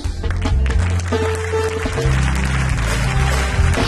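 Congregation applause in a church service, a broad continuous clapping wash layered over sustained low music tones, steady and fairly loud throughout.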